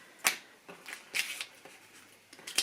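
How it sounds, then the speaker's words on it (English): A deck of cards being shuffled close by, with several quick riffling bursts and short pauses between them. "Get you a little shuffle, shuffle."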